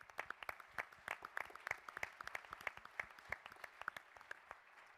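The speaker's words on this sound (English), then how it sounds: "So a round of applause for them." An audience at a scientific society meeting applauds its industry sponsors, a soft, distant patter of many hands with distinct claps popping out in an even, continuous run.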